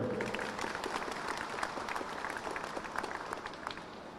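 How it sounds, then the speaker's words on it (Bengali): Applause at the 21st anniversary event of Bashundhara City shopping mall: a dense, continuous round of clapping from a crowd, steady and fairly loud throughout. "তাদের জন্য একটা বড় করতালি হবে"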